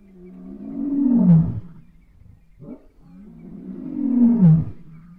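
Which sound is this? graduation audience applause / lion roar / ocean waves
lion roar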